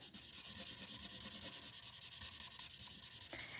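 Copic B00 light blue marker with a chisel nib rubbing steadily across card paper, a soft continuous scratchy swish with rhythmic strokes, close and quiet, no voices.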